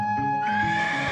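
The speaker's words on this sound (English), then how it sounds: "Why are my horses restless?" Horses neigh in a stage drama sound effect, a loud high whinny that rises and wavers, brief and close with a low rumble underneath.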